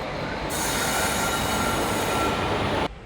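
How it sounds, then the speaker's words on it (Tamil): A train passes through a railway station with a loud, close roar and high wheel squeal that rises sharply, holds steady for a couple of seconds, then cuts off abruptly. "இது வேறு ட்ரெயின்."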